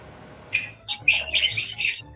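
Pet lovebirds give a quick run of sharp, shrill squawks and chirps, close and loud, in several bursts over a faint background hum.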